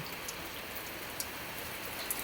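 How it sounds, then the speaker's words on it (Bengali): Steady rain hissing as a continuous wash, with a few louder drops tapping nearby; no voices. "এই যে দেখুন কি বৃষ্টি পড়ছে"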